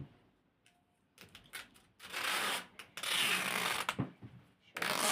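Adhesive tape being pulled and wrapped around a person, loud close ripping and crackling strips in bursts that grow longer and denser, separated by short pauses.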